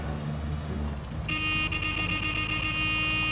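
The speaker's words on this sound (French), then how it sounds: "Je kiffe les klaxons dans le jeu." Car horns in the Mafia 2 video game sound from traffic as a sustained buzzing honk over a steady engine drone, loud and continuous with no pause, with no voices.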